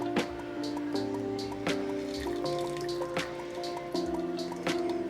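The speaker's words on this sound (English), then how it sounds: "See how much more oil's coming out of there?" Used engine oil dripping and trickling out of a snow blower's drain into a pan, a steady run of wet drips with small splashes, close and fairly quiet over a faint hum.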